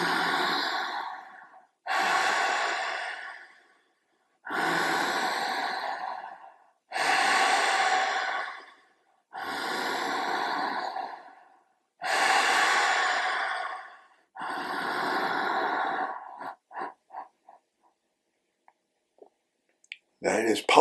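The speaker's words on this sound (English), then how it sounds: "push the ribs against the hands so you're resisting the breath" Deep breathing into the ribs while pushing against the hands: seven long, slow, airy breaths at a steady pace, close and clear, then a few short puffs and near quiet.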